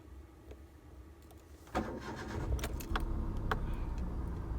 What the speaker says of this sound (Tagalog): Put your key in your ignition in here. And then twist.